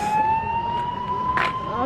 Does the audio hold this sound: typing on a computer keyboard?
no